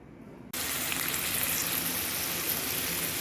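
Bitter gourd frying with potato and onion in oil, a loud, steady hiss and sizzle that starts abruptly after a brief quiet moment and holds evenly to the end, with no talking.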